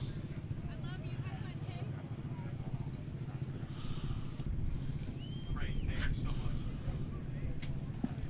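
Racing karts on a short course pull away at the green flag, a steady low engine drone filling the track with a rising surge of revs, while a commentator talks over the noise.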